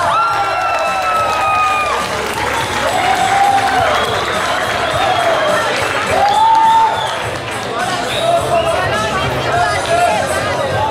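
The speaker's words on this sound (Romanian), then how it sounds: "Aplauze." Audience applause and cheering from a crowd at a high school freshman ball in Curtici, Romania, a steady wash of clapping and murmuring voices with whoops rising and falling over about eleven seconds.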